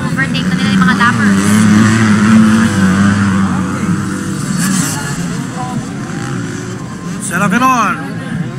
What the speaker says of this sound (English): Lucha Serafiron is using a 4-stroke motorcycle